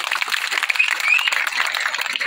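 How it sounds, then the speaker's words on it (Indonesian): Applause from an audience at a Balinese Hindu dharma wacana gathering, a broad, steady wash of clapping that holds at an even level throughout with no voices above it. "silakan tepuk tangan yang keras."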